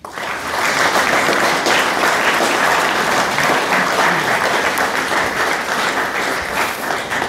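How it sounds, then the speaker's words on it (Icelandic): A seminar audience claps loudly and steadily for about seven seconds, a dense, even wash of many hands with no talking over it. "kæru fundarmenn, gefið Einari Þveræing klapp"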